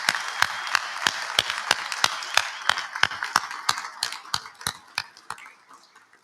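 Scattered applause from a small group gathered underground at the Deep Underground Neutrino Experiment excavation site, about twenty distinct claps ringing with echo, loose and uneven, thinning out toward the end.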